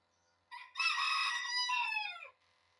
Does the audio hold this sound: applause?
no